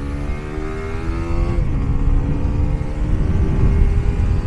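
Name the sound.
Honda CBR150R single-cylinder motorcycle engine during test ride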